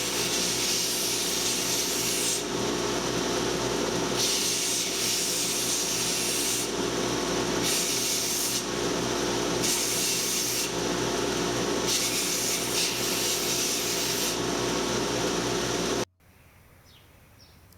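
Wooden straight razor scales being tapered and shaped by hand, a steady close abrasive rasping in rhythmic strokes for about sixteen seconds, then stopping abruptly into a quiet room.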